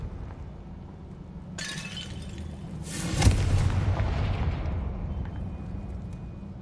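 A Confringo fire spell blasts in Hogwarts Legacy: a sharp crackling burst, then a heavier booming explosion that rumbles and fades over a steady background hum.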